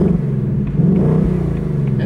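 A 2024 Ford Mustang GT exhaust in sport mode rumbles loud and close with a brief rev, its deep burble steady over the short moment.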